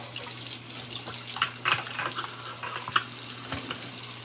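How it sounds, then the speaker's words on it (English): Cold water from a tap running into a kitchen sink while canning tomatoes, a steady hissing splash with a low hum underneath and a few clinks, fairly quiet and with no voices. "And fill the sink up."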